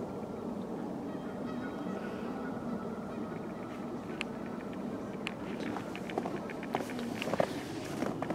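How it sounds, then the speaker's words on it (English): Geese honking somewhere off in the distance at a nature preserve in late winter, faint calls under steady outdoor ambience and crunching footsteps on a walk. "There's some geese being a wah-wahs."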